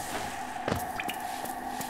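Acid water in the Hollow Knight video game gives soft squishy splashes and drips, several brief wet hits over a steady background drone of game ambience.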